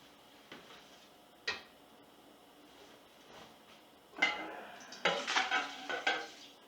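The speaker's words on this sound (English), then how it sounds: "We're going to switch up the pot here." Cooking pots being swapped for a bigger cast iron pot, giving a few sharp metallic knocks and then a cluster of clanks and scrapes near the end, close and fairly loud, with nobody speaking.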